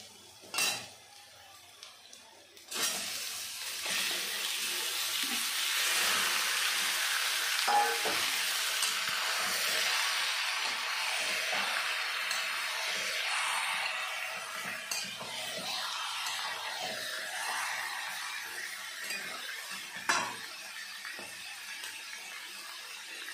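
Marinated chicken hits lightly browned onions in a hot pan, setting off a loud, steady sizzle, with a utensil stirring and scraping against the pot and an occasional metallic clink.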